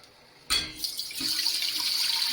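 White vinegar poured into a pot for homestyle corn relish, a canner warming nearby, begins with a sharp clunk and then runs as a steady, close liquid stream.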